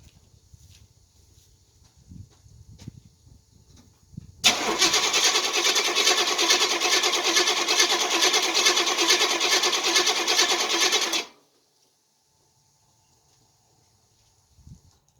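A Chevrolet Nova engine cranks and catches, then runs loud and steady for about seven seconds at close range before cutting off abruptly into near silence, with quiet shuffling before the start.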